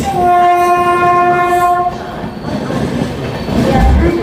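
Black Diamond Express at Bandel Junction, its horn sounding a long steady blast for the first two seconds, then a loud rumble of rolling cars and clattering wheels close by on the platform.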